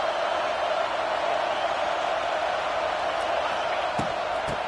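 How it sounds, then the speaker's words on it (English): The stadium crowd at an American football game roars as the defense tries for a red-zone stop, a steady, dense wash of cheering with a few thuds near the end. "This crowd is trying to inspire this defense to make a big red zone stop."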